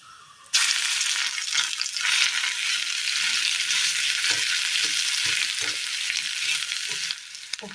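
Ground shallot paste hits hot oil in a Kerala-style pan with mustard seeds and a little asafoetida, bursting into a loud, steady sizzle after a quiet start and crackling continuously, close up, with no talking.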